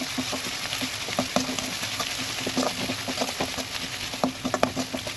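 Ginger garlic paste sautéing in a pan for Tamil-style chicken curry: a steady close sizzle broken by frequent spatula scrapes and small pops, with no talking.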